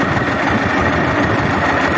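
A tractor engine pulling a plow with a spring-loaded weight attachment runs loud and close, a dense, steady mechanical roar with rattling vibration and no voices over it.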